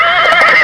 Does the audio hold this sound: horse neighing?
yes